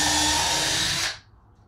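A power drill whirs at steady high speed for about a second pre-drilling a screw hole, then winds down and stops, leaving quiet room noise.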